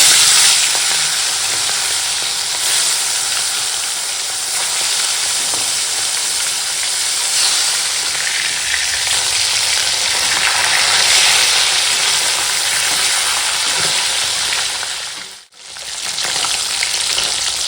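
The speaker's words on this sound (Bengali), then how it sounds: "এখন মাছ ভেজে নেব দেখো তেলটা গরম হয়ে গেছে" Pieces of snakehead (shol) fish coated in salt and turmeric fry in hot oil, giving a loud, steady sizzle and hiss that carries on throughout with only a brief dip near the end.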